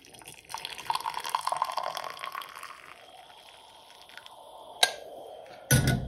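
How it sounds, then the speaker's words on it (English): Freshly made coffee poured into a cup while preparing tiramisu, a soft trickling liquid stream for a few seconds, followed by a couple of sharp clinks and knocks. "I've got to pour the coffee in a cup."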